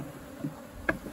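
Bees buzz steadily around a queen cell at a beehive, a continuous close, low-level droning hum with a couple of faint clicks and no talk.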